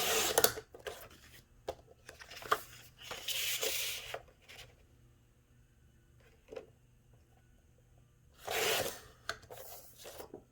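Scissors or a paper trimmer cut pieces of paper for a wallet-fold album base, heard as faint, close, scattered slicing and rubbing strokes separated by quiet pauses.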